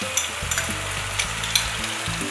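Onion and fresh tomato fry in a pan while making Ethiopian ful, a steady close sizzle with a few sharp crackles and pops scattered through it.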